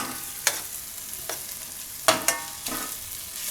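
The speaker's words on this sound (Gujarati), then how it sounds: "તો આ રીતે પનીર બધું મિક્સ કરી દેવાનું આમાં" Paneer is stirred into bhurji fried rice in a frying pan, a soft sizzle running beneath several scraping stirs of a spatula, close up and with no talking.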